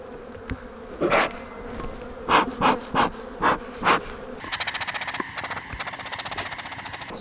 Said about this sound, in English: festoon of bees right there. Let's shake them off.